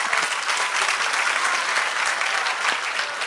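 An audience at a happiness and wellness workshop in a university hall breaks into steady, dense applause that holds at an even level for a few seconds, with no voices over it.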